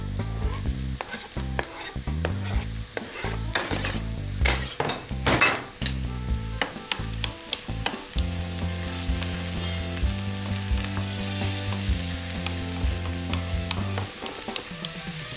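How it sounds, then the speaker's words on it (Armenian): Pumpkin pulp frying with carrot and onion in a pan, loud continuous sizzle with frequent stirring scrapes and utensil knocks close up, no talking. "Թող տապակվի գազարի և սոխի հետ"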